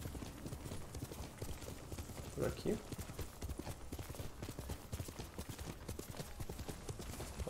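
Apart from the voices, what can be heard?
horse galloping hooves in Ghost of Tsushima video game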